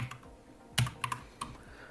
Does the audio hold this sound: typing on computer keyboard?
yes